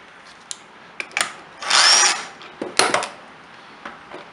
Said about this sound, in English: Go ahead and remove the flywheel.